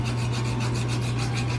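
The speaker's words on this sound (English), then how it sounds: "I want to file at the top seam first." A metal file rasps across the top seam of a hand-hammered brass horn bell in quick, even back-and-forth strokes, close and continuous, with a steady hum underneath and no talking.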